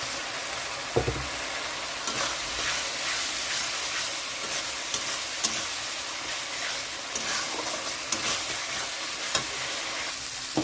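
Prawns frying in spice masala, with a continuous sizzling hiss and occasional sharp stirring scrapes and taps at a moderate level throughout.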